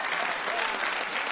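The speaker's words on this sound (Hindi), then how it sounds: "वाह, तब फिर तालियां बजाइए।" Steady audience applause from a studio crowd on a business pitch show, a dense wash of many hands clapping continuously without a break.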